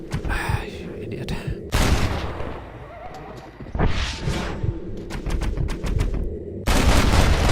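A horse whinnies in Red Dead Redemption amid bursts of gunfire and game noise, with a voice speaking in the mix.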